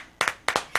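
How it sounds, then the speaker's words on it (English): A few soft, slow claps from one or two people, each a doubled hit, spaced evenly and close by, quiet and polite like a golf clap. "Golf clap."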